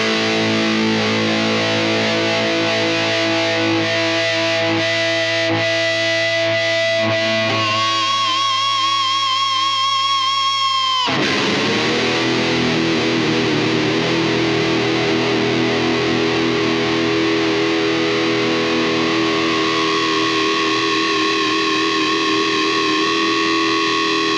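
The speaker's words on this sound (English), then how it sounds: "let's see if we can get this thing to feedback real well." Electric guitar driven through a ProCo Rat distortion pedal swells into sustained, howling feedback, loud and continuous, with tones shifting in pitch and a sharp change partway through.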